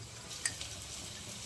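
Green chilli paste sizzling in hot oil while tempering, a steady faint hiss of frying with a brief stir or clatter near the start, no talk.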